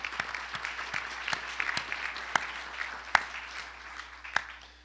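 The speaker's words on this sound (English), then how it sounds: "give her a quick round of applause" A conference audience claps briefly and quietly for the events coordinator, with a few sharp individual claps standing out from the soft, scattered applause.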